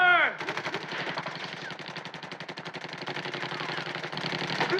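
Film-scene gunfire from a car chase, with a rapid, sustained automatic burst of shots rattling close and loud for several seconds after a brief screeching sound at the start.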